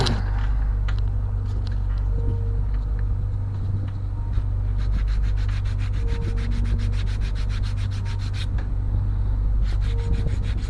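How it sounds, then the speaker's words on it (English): Light hand sanding across the top of a wooden 1:50 scale Flying Dutchman ship model kit, a steady close rubbing rasp with quicker rhythmic strokes in the second half, no voices. "So let's give it a light sand over the top."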